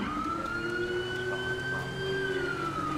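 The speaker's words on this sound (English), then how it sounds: "We are using a Wheelin Syncom Sapphire Howler siren." In the GTA 5 video game, a Whelen Cencom Sapphire Howler police siren wails, sweeping slowly up and down in pitch over a low engine hum, sustained and moderately loud.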